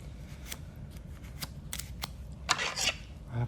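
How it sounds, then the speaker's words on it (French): Scissors cut through a folded piece of paper in a series of crisp, close snips, with a brief flurry of rustling cuts near the end in an otherwise quiet room. "On va prendre des ciseaux"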